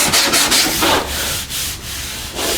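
Body filler on a car panel is sanded by hand with 80 grit sandpaper in quick, rhythmic back-and-forth strokes, a close, loud, gritty rasp with brief pauses between passes and no voices.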